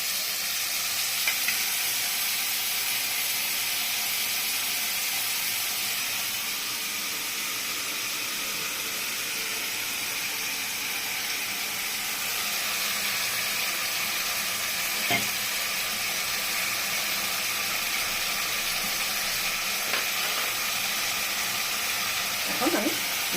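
Water poured into a hot pan of katla fish curry with nigella and mustard, a continuous bright sizzle and hiss of steam, steady and close, with a few small bubbling pops.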